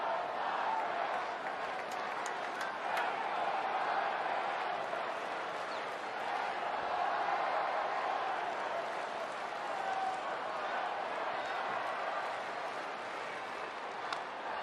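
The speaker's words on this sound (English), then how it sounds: "Crowd loving it." Baseball stadium crowd during a Padres versus Reds game, a continuous distant roar of cheering and clapping that holds steady throughout with scattered shouts.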